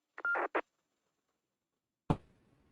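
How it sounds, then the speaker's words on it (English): A short electronic tone burst of a couple of quick chirps, then silence and a sharp click with a brief decaying tail, a 2m amateur radio roger beep and key-up. "Peter, you have one of those Roger beeps there on your transmit there."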